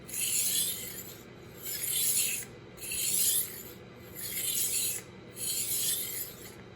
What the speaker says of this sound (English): So now we're going to use the other end, the polishing and honing.